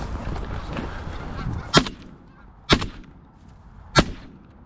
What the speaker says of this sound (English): I'm gonna shoot these two, okay?